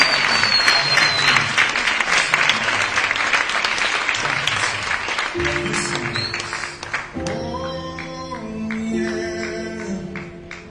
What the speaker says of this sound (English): Let's give him a huge round of applause as he prepares to share his manifesto message.